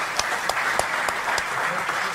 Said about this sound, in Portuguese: Jorge, um grande aplauso para ti